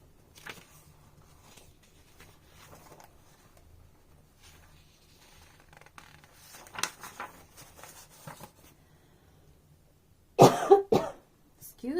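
A person coughs several times near the end, a cluster of harsh, close bursts after mostly quiet rustling and a few softer sounds.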